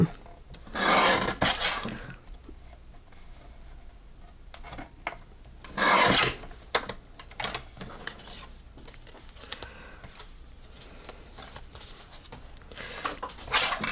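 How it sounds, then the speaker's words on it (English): A paper craft card being trimmed, with bursts of scraping, rubbing cuts and handling rustles at close range, separated by quieter stretches. "let me go ahead and just trim off the front of this card"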